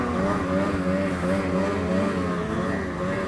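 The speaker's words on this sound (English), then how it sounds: "Today I'm riding my favorite sled. It is a Ski-Doo Summit" A Ski-Doo Summit snowmobile engine revs continuously, a loud buzzing drone with rising and falling pitch as the throttle shifts, close and steady throughout.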